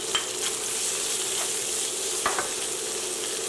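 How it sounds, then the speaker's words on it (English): Five cloves of minced garlic hit a pan of translucent onions for a vegetable and shrimp stir-fry, giving a steady, close sizzle with a few faint clicks and no talking. "I'm going to add in my garlic. And these are 5 cloves of garlic that I have minced."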